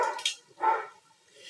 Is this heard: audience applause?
no